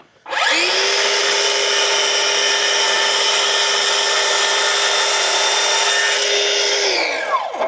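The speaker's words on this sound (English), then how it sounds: "The CEENR battery can handle the little miter saw though" A small cordless miter saw on a CEENR PowerCore 8Ah battery spins up and cuts through wood in one continuous loud, steady whine lasting several seconds, then winds down, close by with no talk.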